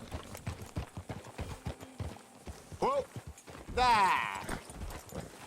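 Rhythmic horse hooves clop steadily along in Red Dead Redemption 2, with a horse whinnying and snorting partway through and someone speaking briefly over them.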